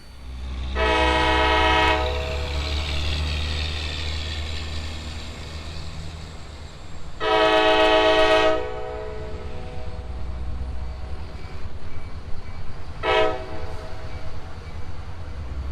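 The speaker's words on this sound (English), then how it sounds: "Here's the next Lehigh Gorge excursion leaving." A Lehigh Gorge excursion train pulls out under a steady rumble of engine and rolling cars, its horn sounding two long, loud blasts and then a short third toot.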